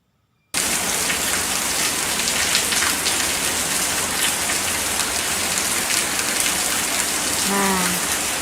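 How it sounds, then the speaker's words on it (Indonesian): Steady rain pours down, a dense, even hiss of drops on surfaces that starts abruptly after a brief silence and continues unbroken and fairly loud. "contohnya bunyi alam ada hujan"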